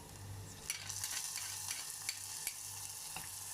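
Chicken with onion and ginger garlic paste is sautéed for chicken handi, giving a faint, soft steady sizzle with light scraping stir strokes, no voices.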